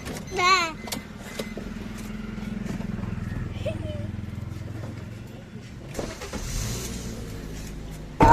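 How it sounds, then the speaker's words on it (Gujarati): A car engine starts up and runs with a low steady rumble nearby, while people talk over it and birds chirp in the background. "પેલા આપણે ગાડીને ફૂલ સ્ટાર્ટ કરી દઈએ."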